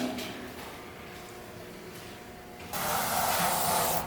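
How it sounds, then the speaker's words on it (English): An airbrush sprays paint onto a Ford custom project to add patina, giving a soft, steady hiss that jumps to a louder, brighter spray near the end. "So the airbrush, the push down for air, and then the more you pull it back, the more paint that comes out of it."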